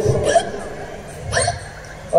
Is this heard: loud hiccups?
yes